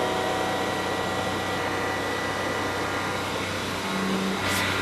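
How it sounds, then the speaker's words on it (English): Dense, continuous roar of a McLaren F1 GTR #16R race car engine while driving, heard from close by and steady throughout, with no voices. "To listen to all the noises of the car."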